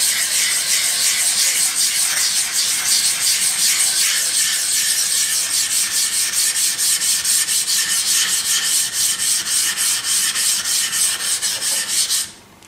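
A Ka-Bar KA4065 Dozier knife is worked on a 3000-grit Japanese water stone, a loud continuous close rasping scrape with fast back-and-forth strokes for about twelve seconds before stopping abruptly, with no talking.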